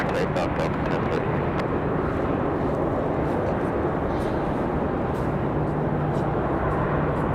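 A Delta Airbus A320-200 takes off from runway 23 right at Raleigh-Durham airport with a loud, steady broadband jet roar that fills the whole stretch without letup.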